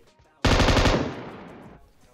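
A sudden burst of automatic gunfire in the PUBG Mobile video game, a rapid loud volley of shots lasting over a second before ringing off and fading.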